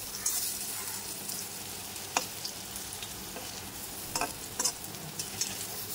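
Pea-lentil fritters shallow frying in a little oil, a steady soft sizzle with occasional light clicks of a utensil against the pan.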